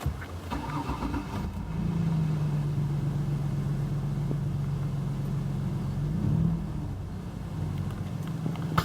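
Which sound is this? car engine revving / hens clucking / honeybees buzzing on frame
car engine revving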